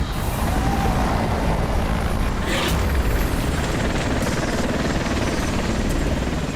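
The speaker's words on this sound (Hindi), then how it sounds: "हेलीकॉप्टर इतना नीचे क्यों उड़ रहा?" A helicopter flies low overhead, giving a loud, steady mechanical roar that fills the whole stretch without letup, with no voices over it.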